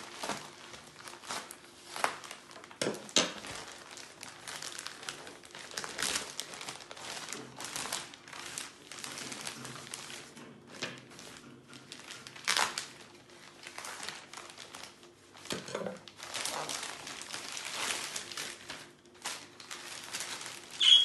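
Plastic packet being opened with a Yakut knife that is not very sharp, giving close, continuous crinkling and rustling of the plastic with scattered tearing and crunching bursts over about twenty seconds, no talking.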